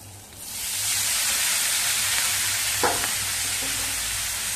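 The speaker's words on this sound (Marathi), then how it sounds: "मेथीची भाजी चांगली परतवून झाली." Fenugreek leaves being sautéed in oil with green chili paste, a loud, steady sizzling hiss that rises as the greens hit the pan, with a brief stirring scrape partway through.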